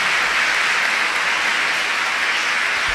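Church congregation at a Catholic Sunday Mass for the first Sunday of Advent bursts into sustained, loud applause, a dense steady clapping filling the whole stretch with no voices over it.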